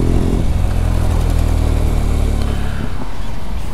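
A motorcycle rides along with a loud, steady low engine drone and rumbling wind noise, close and continuous, the pitch easing slightly near the end.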